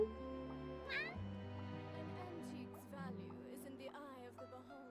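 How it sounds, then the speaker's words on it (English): Several cat meows from a video game character in Genshin Impact rise and fall over steady background music, a few separate calls spread out, fairly close and clear. "Meow, meow."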